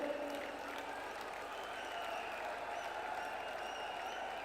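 A large crowd at a political rally in Jaipur applauds in a continuous, dense wash of clapping that holds steady from start to finish, heard from within the gathering.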